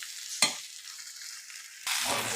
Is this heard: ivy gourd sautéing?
yes